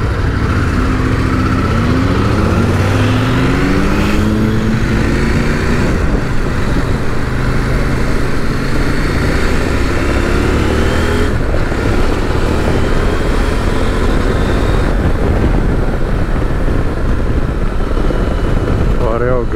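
A CF Moto 800MT X motorcycle accelerates hard, its engine note climbing repeatedly through the gears under steady wind noise, while a rider talks over it throughout.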